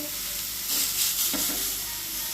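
An uttapam frying on a pan, giving a close, steady sizzle with a couple of brief swells of louder crackle and scraping, as if stirred or shifted.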